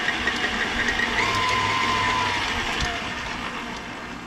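A stand mixer spins its paddle to fling off walnut cookie dough, giving a close, loud, steady motor whir with a faint rising whine that gradually eases off.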